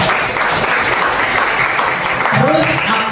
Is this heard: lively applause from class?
yes